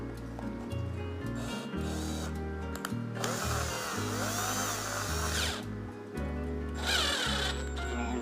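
A battery-powered screw drill whirs in short, stop-start bursts at varying speeds, its chuck being opened with an Allen key, with a few brief mechanical rattles and grinding scrapes between runs.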